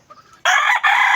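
A rooster crows loudly and close by in a single strong burst with a brief break partway through, after a few faint clucks from the backyard chickens.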